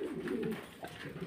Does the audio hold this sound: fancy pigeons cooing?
yes